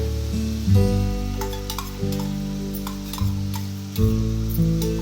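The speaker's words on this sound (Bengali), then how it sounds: "এবার আমি খুব ভালো মতো কষিয়ে নিচ্ছি যাতে মশলার কাঁচা গন্ধটা চলে যায়" Spice paste for a mung dal kalia is sautéed in a pan, giving a steady close sizzle with scraping stir strokes and light clinks of a spoon, pulsing in a few louder surges.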